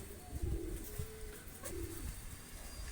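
Flying pigeons in a loft give several soft, rolling coos in a row, fairly close, over a low bed of rustling and shuffling.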